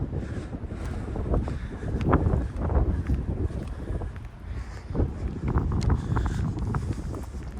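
Strong outdoor wind buffets the microphone in a steady, rumbling roar with gusty swells, recorded while walking past a cafe along a path; no voices are heard.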